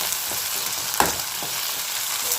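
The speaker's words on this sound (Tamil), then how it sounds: "இப்போ இந்த கத்திரிக்காய் சேர்ந்து நல்லா வேகணும் இப்போ இது நல்லா வேகட்டும் கத்திரிக்காய் பச்சை மிளகாய் எல்லாம் சேர்ந்து நல்லா வதங்கிட்டுருக்கு" Brinjal and green chillies sauté in a pan, a constant close crackle broken by a couple of quick stirring scrapes.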